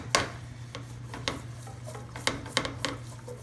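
Spoon scraping a pot while stirring a dark gumbo roux, irregular soft rasping strokes with a few sharper clinks over a steady low stove hum, close up and fairly quiet.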